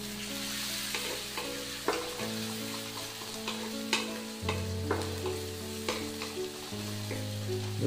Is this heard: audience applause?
no